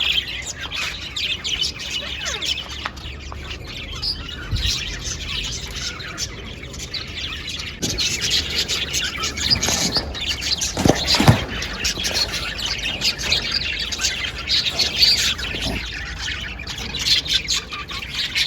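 Several birds chirp and squawk at a feeding spot outdoors, with bright overlapping calls that continue throughout and grow busier and louder toward the middle and end.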